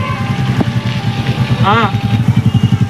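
A scooter engine idling close by with a rhythmic puttering that speeds up toward the end, with a voice over it.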